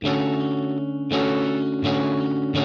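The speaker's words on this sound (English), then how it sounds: "I need a little bit of distortion. I'm hearing a little bit of drive, but not too much." Electric guitar with mild overdrive, sustained chords ringing out and restruck about every three-quarters of a second, warm and moderately loud.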